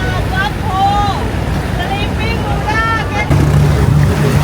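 Cargo boats on the river near Wat Arun in Bangkok give a steady low engine drone with water and wind noise, while people talk over it nearby.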